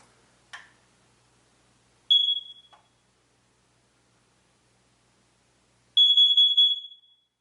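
A household smoke alarm sounds during a button test: a faint click, then two loud, piercing high-pitched beeps about four seconds apart, each lasting under a second, with silence between.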